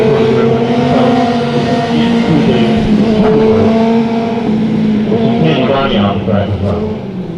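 Race cars circulate on the dirt track at Bakersfield Speedway, their engines droning and revving loudly and continuously while an announcer talks over them.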